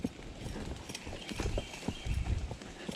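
On a summer trail ride, horse hooves clip-clop in a steady walking rhythm close by, with soft thuds and tack rattles underneath and a light outdoor background.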